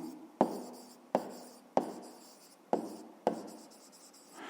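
Handwriting, likely pen on paper, in a school maths exercise: five distinct strokes or taps, each a sharp attack fading quickly, spaced about a second apart in a quiet room.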